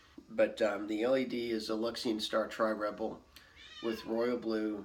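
A domestic cat meows repeatedly close by, its drawn-out cries running under and between a man's steady speech indoors.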